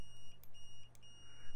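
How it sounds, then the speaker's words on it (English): A multimeter set to continuity mode gives a faint high electronic tone while testing a Holybro Kakute F7 flight controller board, with a few short beeps over a low steady hum. "Set your multimeter to the one with the little sound indicator."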